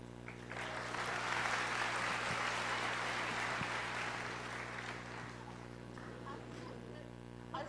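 A university world regions class applauding, a sustained burst of many hands clapping that rises quickly, holds for several seconds and tapers off over a steady electrical hum.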